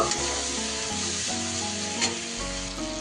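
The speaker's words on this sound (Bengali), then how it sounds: "এবার সব কিছু খুব ভালোভাবে আরও কয়েক সেকেন্ড কষিয়ে নেব।" Spices with coriander powder fry in a pan for a mixed vegetable and prawn dish, making a loud continuous sizzle close up with scraping stirring strokes through it.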